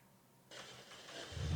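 A video game car engine in Saints Row starts up abruptly partway through and settles into a steady mid-pitched hum, growing slightly louder toward the end.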